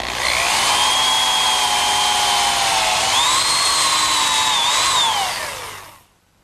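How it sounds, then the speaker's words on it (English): A power drill whines steadily and loud, its pitch dipping and rising as it bores dowel holes into a wood joint, then winding down to silence at the end. "Next, I'll drill some holes to secure the joint with some dowel pins."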